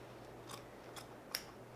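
Scissors trim upholstery fabric on a wing chair, close and fairly quiet: three separate crisp snips spaced out over a faint steady hum.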